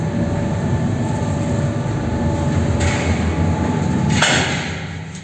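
A wheelchair platform lift travelling downward inside a hospital, giving a steady mechanical hum and rumble with a couple of brief rattling swells near the end, with no voices.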